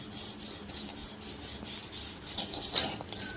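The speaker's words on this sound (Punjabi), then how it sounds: "ਨਾਲ ਨਾਲ ਆਪਾਂ ਕੜਾਈ ਇਹ ਸਾਫ਼ ਕਰ ਰਹੇ ਹਾਂ" Scrubbing a burnt iron karahi pan clean produces a close, rhythmic gritty rasp, strokes repeating about twice a second and growing harsher near the end.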